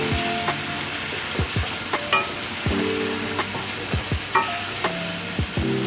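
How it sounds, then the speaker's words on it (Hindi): Chicken fries in oil with garlic and ginger, a steady loud sizzle broken by repeated scrapes and knocks of a spoon stirring in the pan, with no speech. "इसको अच्छी तरह फ्राई करेंगे तेल में लहसुन अदरक साथ।"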